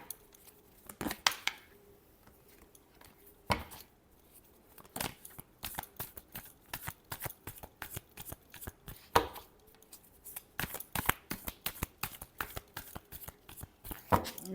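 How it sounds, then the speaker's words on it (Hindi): A deck of tarot cards being shuffled by hand, with bursts of riffling and sharp flicking snaps separated by short quiet gaps, close and crisp, no talking. "Last shuffle."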